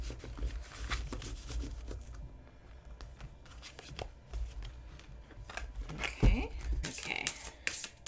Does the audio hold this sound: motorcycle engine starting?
no